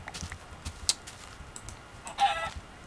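Minecraft chickens cluck in short, sparse bursts over quiet game ambience, with one sharper cluck near the end.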